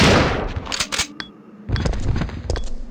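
A pump-action shotgun fires in the video game Resident Evil 3, a sharp blast that opens the clip, followed by a few quicker bursts and clatter, with a louder stretch of game noise after a short lull.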